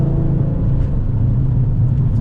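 Audi RS3 with a built R30 VR6 engine drives along at steady throttle, a loud, close, continuous low engine drone and road rumble heard from inside the cabin.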